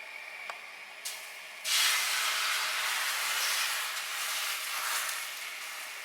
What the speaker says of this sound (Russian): Перемешиваем тесто хорошо и выливаем блинчик.